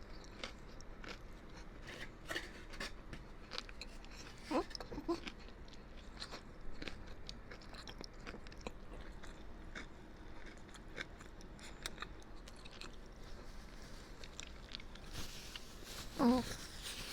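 Crunchy food being chewed and bitten inside a car, with dipping sauces such as blue cheese and ranch on hand; close, soft repeated crunches and mouth sounds run steadily, with a louder bite near the end.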